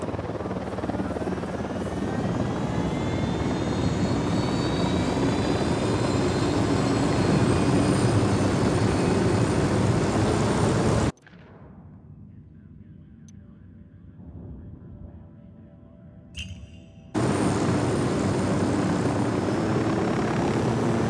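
Steady loud helicopter rotor and engine drone as a player flies an aircraft in Ghost Recon Wildlands, cutting out briefly midway to a near-silent gap, then resuming at full strength.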